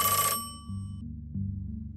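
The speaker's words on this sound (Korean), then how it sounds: "어머니께 걸려온 전화." A telephone rings with a bright electronic trill that cuts off sharply, followed by a low droning hum that steps up twice.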